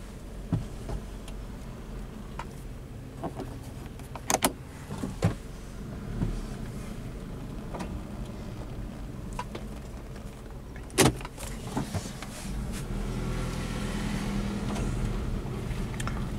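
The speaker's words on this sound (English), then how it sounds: "I will give you guys a little driving clip of me pulling it back in the driveway" A Toyota Highlander SUV pulls slowly into a residential driveway, its engine a low steady rumble heard from inside the cabin with a few clicks and thumps, no talking.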